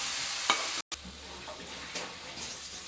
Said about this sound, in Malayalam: ഏകദേശം ഉള്ളി, ഇഞ്ചിയും എല്ലാം വഴണ്ട് വന്നുകൊണ്ടിരിക്കുകയാണ്.